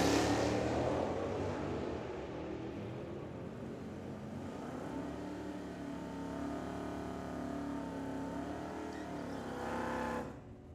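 Drag racing cars, including a 1970 Challenger super stock, run down the strip at Firebird Motorsports Park, engines roaring loud and near at first, then holding a sustained rising drone that fades as the cars pull away.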